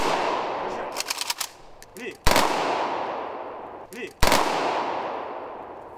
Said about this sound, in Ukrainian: під гарматні залпи були з почестями віддані землі